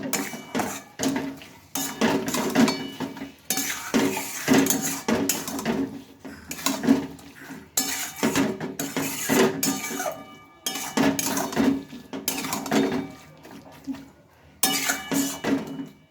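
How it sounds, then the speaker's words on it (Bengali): A utensil scraping and clinking against a metal kadai as spices are mixed for mutton, repeated irregular bursts of clattering close by. "সব ভালোভাবে আমি মিশিয়ে নিই"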